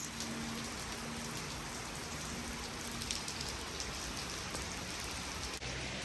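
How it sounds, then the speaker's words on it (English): Steady rain falling outdoors on a farmyard, a dense continuous hiss of drops on surfaces with no pauses or voices. "I've now untacked because it's pissing it down"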